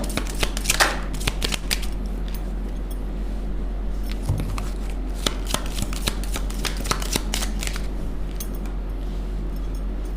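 Tarot cards being shuffled by hand, a steady run of quick papery riffles and slaps over about ten seconds, close and clear, with a low steady hum underneath and no speech.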